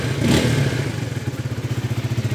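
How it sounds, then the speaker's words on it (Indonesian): A used motorcycle engine idles close by after a brief rev, settling into a steady, pulsing putter throughout. "Bisa didengarkan suara mesinnya."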